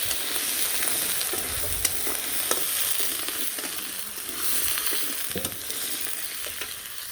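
Potatoes fry in a mix of mustard and soybean oil, a steady close sizzle running throughout with a few sharp crackles and light stirring scrapes.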